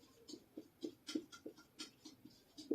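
Chalk writes on a classroom board in a steady rhythm of short scratchy strokes, about a dozen taps and scrapes in under three seconds, close and fairly quiet.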